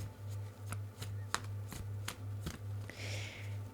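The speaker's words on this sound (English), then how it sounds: "just as I'm shuffling and as I'm kind of laying out the cards, moving the box" Close, quiet riffling and tapping of tarot and oracle cards being shuffled by hand, in repeated short bursts over a low steady hum, ending in a soft brushing slide.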